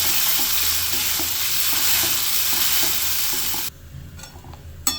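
Spice paste stirred and fried in a hot pan, a steady loud sizzle with scraping stirs that cuts off abruptly near the end, leaving quieter scattered clicks.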